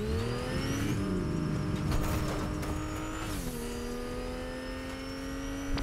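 A car engine in a driving video game revs in a steady, high, buzzy drone that dips briefly in pitch as it shifts, then holds on, with no one talking over it.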